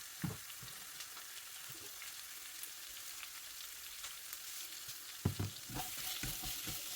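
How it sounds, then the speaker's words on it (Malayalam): Onions sauté in a pan for a tomato curry, giving a continuous soft sizzle with occasional scraping and clinking stir strokes, a few louder clatters near the end, and no talking. "സവാള നന്നായിട്ട് ഒന്ന് വഴറ്റണം."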